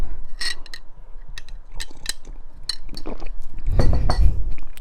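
A glass holding iced matcha with honey and coconut milk clinks several times in quick, bright taps, ending in a louder jumble of glassy knocks and sloshing near the close.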